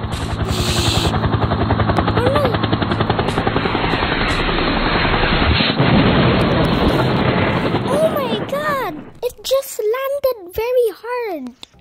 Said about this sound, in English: The plane crash up there.